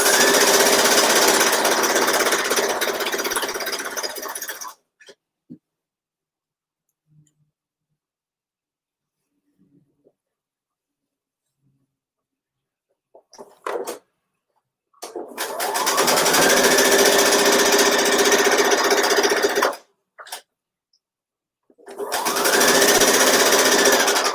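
A sewing machine stitches a fabric seam in two long, loud, steady runs, stopping briefly in between with a few quiet handling sounds during the pause.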